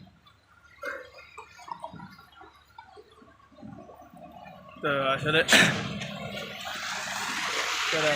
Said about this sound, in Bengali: উনি লাই দিয়ে পানি দিচ্ছে আর মোটর দিয়ে